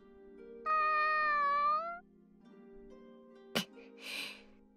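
A cat in an animated fantasy series gives one drawn-out, clear meow over a low background score, followed by a brief sharp knock and a soft rustling burst.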